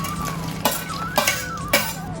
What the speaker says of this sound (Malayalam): നന്നായിട്ട് മിക്സ് ചെയ്തെടുക്കാം.